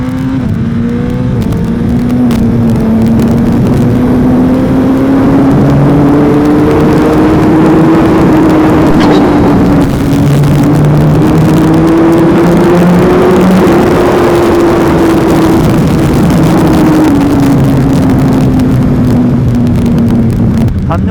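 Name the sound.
Suzuki GSX-R1000R motorcycle accelerating in second gear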